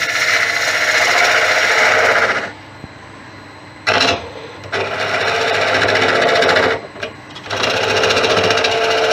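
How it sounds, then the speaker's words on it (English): A monkey puzzle branch spins on a wood lathe while a spindle gouge cuts it, giving loud bursts of scraping and chattering separated by brief pauses. "You should have no problem here with the spindle gouge, because remember, you're basically doing the spindle turning."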